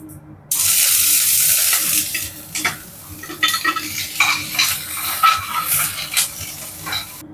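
Dried red chillies and onion drop into hot oil in a pan and burst into a loud, steady sizzle, then crackle and spit unevenly while being stirred.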